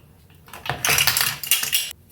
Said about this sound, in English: So I have my measuring spoons here. I'm going to go in with 2 teaspoons caraway seeds